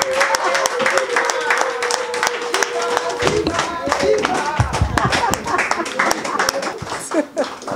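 Applause from an audience at a foundation inauguration event in Congo, with scattered clapping building into a dense round beneath a voice that keeps speaking over it.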